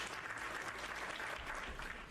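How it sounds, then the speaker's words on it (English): A short burst of canned applause plays on a Minecraft live stream, an even, moderately quiet crowd clapping that runs unbroken for about two seconds. "You get a round of applause for being first here"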